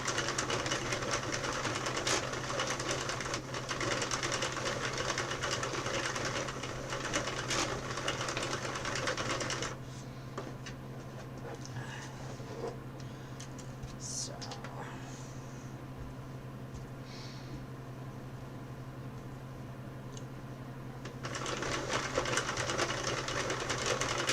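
A knitting machine cranked by hand while making adult hats for charity, with a steady mechanical whirring and clattering that runs continuously, dipping quieter midway before rising again, with no talking.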